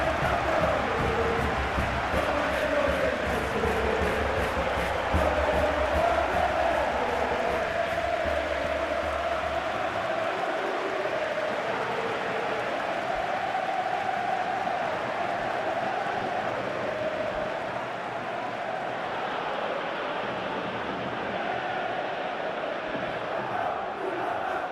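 Loud stadium crowd noise from a Barcelona vs Atletico Madrid football video game roars steadily at a capacity ground, a dense continuous cheer that holds throughout.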